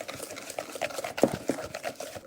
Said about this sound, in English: I'm going to whisk this up.